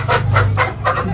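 A large chicken at a village home clucks four times in quick, evenly spaced bursts, close and fairly loud over a low steady hum.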